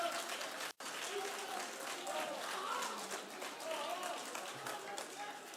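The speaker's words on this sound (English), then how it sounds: "Thank you to the EFF for your applause" Applause fills a parliament chamber, steady clapping from many members with a brief break near the start, then continuing at moderate distance under some murmured talk.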